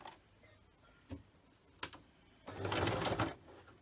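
A sewing machine zigzag stitching with thread, heard up close: a few isolated ticks and clicks, then a short, dense burst of rapid machine stitching lasting under a second.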